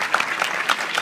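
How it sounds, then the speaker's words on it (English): An audience at a Southern Federation of Syrian Lebanese American Clubs address claps briefly, a quick dense patter of hands heard alone for about a second. "And you can give them all of them an applause."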